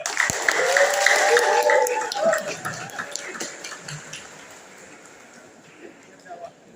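Applause from a seminar audience at an Islamic institute in Asahan, North Sumatra, Indonesia, swells at first, then fades into scattered claps and murmuring, with a voice speaking Indonesian over the room.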